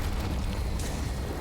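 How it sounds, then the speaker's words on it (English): A frag grenade bursts in the turn-based tactics game Gears Tactics, producing a dense, loud, continuous rumbling roar that fills the whole moment without a distinct single bang. No one speaks. "Explosion. Outgoing frag."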